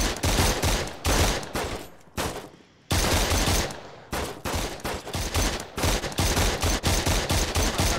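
Rapid bursts of automatic gunfire from a weapon in the VR shooter game Surv1v3, loud and close, firing in dense repeated volleys with a couple of short pauses as the magazine runs dry.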